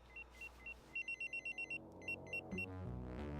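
A flip phone rings in short repeated electronic trill bursts, a quick series of bright beeps cycling several times, fairly close and loud, with a clunk near the end.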